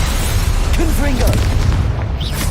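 A Confringo fire spell blast in the video game Hogwarts Legacy, a loud booming burst with rumbling low end, sounding amid continuous spell effects and a brief voice.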